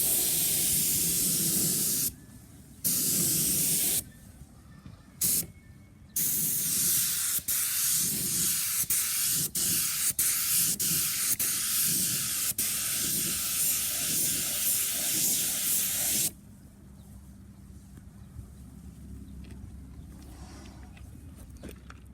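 A spray gun lays clear coat onto a car panel during a spot rust repair, a loud steady hiss of spraying broken by short pauses between passes, then quieter background hiss toward the end.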